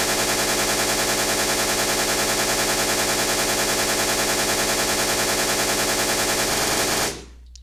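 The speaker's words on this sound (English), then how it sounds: "The only difference between this MG42 and that one is that one's like armored and stuff, and it fires faster and deals more damage." Rapid, continuous MG42 machine gun fire from a Minecraft Flans Mod World War II weapon, a loud unbroken stream of shots lasting about seven seconds before cutting off abruptly into silence.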